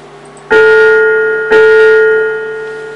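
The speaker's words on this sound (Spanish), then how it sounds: "La campana." A bell struck twice about a second apart, each ringing with a clear, sustained, slightly harsh tone that slowly fades.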